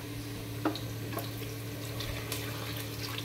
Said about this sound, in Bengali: তো এখানে তারপর আমি হালকা একটু গরম পানি দিব